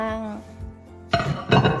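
Dishes clink and clatter as they are washed in a home kitchen. A voice comes first, then a short burst of close, rattling crockery noise.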